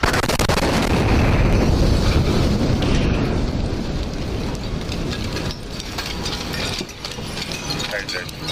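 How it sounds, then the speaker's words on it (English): An RV exploding in downtown Nashville, heard as a loud, sustained roaring rumble that fills the whole stretch and eases only slightly toward the end. "That's when the RV exploded."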